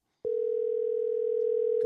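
A steady, continuous telephone dial tone, loud and unbroken after a brief click at the start, heard alone with no talking while a call to a sister is being placed.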